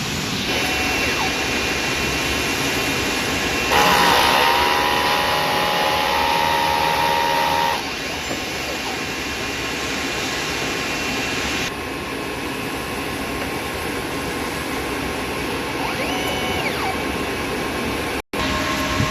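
A DTF printer runs a print head cleaning cycle: a continuous mechanical whir and hum that shifts in pitch and intensity in stages, with a brief higher-pitched passage partway through.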